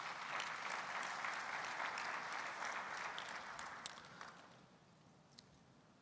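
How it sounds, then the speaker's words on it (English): Applause from the audience at an opening session fills the space, a soft broad wash of clapping that thins and fades out near the end, leaving quiet. "Applaudissez pour ce peuple"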